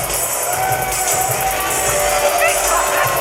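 A wrestling crowd cheers and roars at a live SHW championship event, a steady wash of loud crowd noise throughout.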